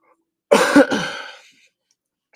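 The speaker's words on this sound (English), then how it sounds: "I've been coughing a lot lately." A single person coughs once, close and fairly loud, a short harsh burst with a throat-clearing edge that trails off, surrounded by quiet.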